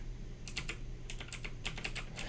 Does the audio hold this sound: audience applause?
no